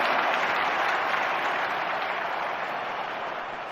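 A stadium crowd applauds at a javelin event in the London 2012 Olympics video game on Xbox 360, a dense, steady wash of clapping that fades slightly toward the end, with no talk over it.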